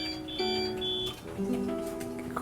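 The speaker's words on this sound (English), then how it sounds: "Alarm! Alarm!" An alarm goes off in an office, a steady electronic tone with harmonic bands, switching pitch partway through and sounding continuously at moderate loudness.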